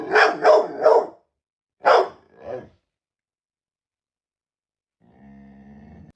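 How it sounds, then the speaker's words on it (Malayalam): A pet dog barks three times in quick succession, then gives two more barks after a short pause, loud and close, and a faint low hum follows near the end. "അൻവിന്റെ 3 പട്ടികളിൽ ഒരു പട്ടി കുരയ്ക്കുന്നതാണ് അൻവിൻ ഇട്ടേക്കുന്ന സ്റ്റോറി"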